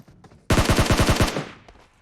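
PUBG Mobile gunfire: a single rapid burst of about eight automatic shots, loud and close, cutting off sharply with a brief echoing tail and one faint shot after.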